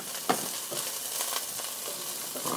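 Hot oil popping and sizzling in a pot with garlic, a dense continuous hiss with occasional sharper pops, close and steady.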